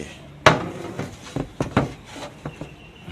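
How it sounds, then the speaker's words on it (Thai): Plastic back cover of an LG 32LB582D TV being pried open, giving a sharp crack followed by a series of scattered clicks and snaps as the clips release, close and fairly loud. "เดี๋ยว เราจะเปิดฝาครอบด้วยกันนะครับ"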